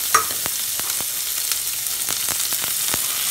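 Chopped onion sizzles steadily in hot oil for a chana-style elephant foot yam curry, a loud continuous hiss broken by scattered stirring clicks, close and alone without talk.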